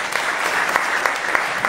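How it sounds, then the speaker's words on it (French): Audience applause at a meetup event, a steady dense wash of clapping filling the whole moment, loud and close with no talk over it. "Merci de l'applaudir."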